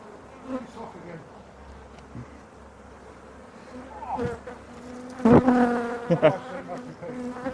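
Honeybees buzz softly and steadily near the microphone at an open hive during an inspection, joined by brief bumps and handling noises that grow louder toward the end.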